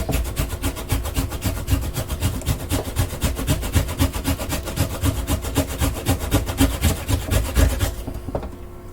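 An onion rubbed over the smallest blade of a box grater, a fast regular rasping stroke repeated many times, close and loud, stopping near the end; no talk.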